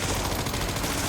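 Sustained rapid gunfire from an unfamiliar gun in the video game Resident Evil Requiem, fired with unlimited ammo against hostile dogs; a loud, dense, continuous burst with no pauses across the short stretch.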